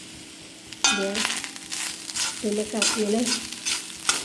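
Ghee sizzling in a pan as a black sesame, jaggery and coconut mixture is stirred, a steady close frying crackle with scraping stir strokes and a brief word spoken over it.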